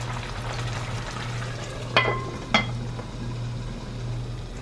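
Mango talkari sauce cooking in a pot, a soft continuous bubbling sizzle with a low hum beneath and two sharp clinks of a lid or utensil partway through.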